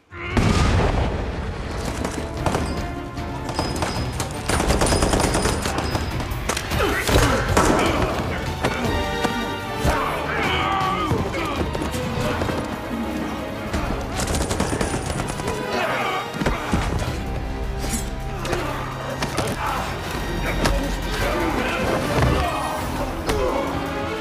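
Loud gunfire and heavy booming impacts fill a shootout between soldiers in an action film, bursts and thuds coming in dense succession over a music score, with voices briefly surfacing.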